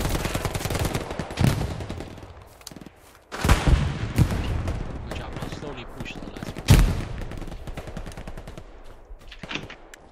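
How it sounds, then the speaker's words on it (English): An StG assault rifle fires in rapid automatic bursts within a World War II battle game, with heavy booming explosions and more gunfire around it and someone talking over the noise. "why is there an STG firing at me?"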